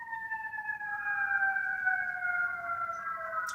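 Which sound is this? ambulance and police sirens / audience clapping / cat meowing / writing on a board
ambulance and police sirens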